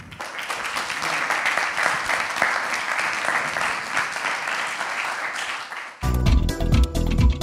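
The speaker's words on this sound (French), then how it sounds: "sous vos applaudissements, j'aimerais que nous accueillions le président de la Société des meilleurs ouvriers de France, monsieur Jean-François Girardin." An audience at a talk on excellence in Polynesian restaurants applauds to welcome the president of the Société des meilleurs ouvriers de France, with steady, full clapping for about six seconds before music cuts in.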